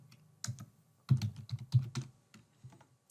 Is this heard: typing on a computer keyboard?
yes